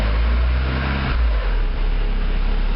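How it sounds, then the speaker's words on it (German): A Porsche 944 S2 engine idles steadily, then its revs rise briefly during a service: a loud, continuous low mechanical hum close to the microphone with a short lift in pitch, and no voices. "Wir starten nun den Motor auf Leerlauf und lassen ihn so lange laufen, bis der Öldruck. Dann kurz ein bisschen die Drehzahl anheben"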